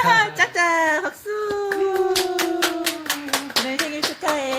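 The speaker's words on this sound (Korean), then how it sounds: "짝짝 박수." At a church birthday celebration, a run of rhythmic hand claps comes in under a sustained voice, growing steadier toward the end.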